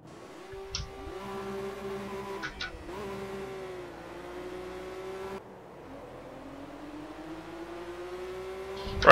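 A BMW 1M race car in the Project Cars racing game drones steadily at close range, its engine pitch climbing and dropping back through several gear shifts, with no talking.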